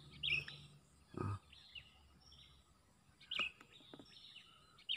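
In open rice fields, a bird gives repeated sharp chirping calls in short bursts, with a few louder nearby rustles and knocks between them.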